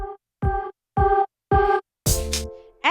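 Vocal chopped by a noise gate sidechained to a kick drum, resulting in rhythmic bursts of tone cut abruptly into even pulses, followed by a brighter sustained burst with a sharp kick-like hit.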